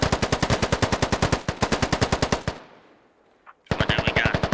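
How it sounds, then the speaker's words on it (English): Rapid bursts of automatic machine gun fire ring out in a squad-based military video game, loud and close with a regular rhythm, broken by a short quiet gap before the firing resumes. "Some very hectic, chaotic fire going out from both directions."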